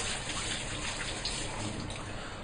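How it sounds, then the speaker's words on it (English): Water runs steadily from a tap while hands are washed beneath it, a continuous close splashing hiss with no break. "Let me just wash my hands."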